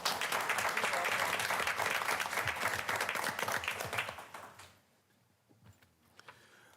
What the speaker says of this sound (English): So I want to give everybody a round of applause.